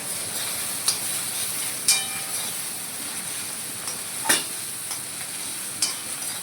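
Dal with tomatoes being stirred in a cooking pot on the stove for a Rajasthani dal bati meal, a steady close sizzle and hiss broken by a few sharp scrapes of the spoon against the pot, no voices.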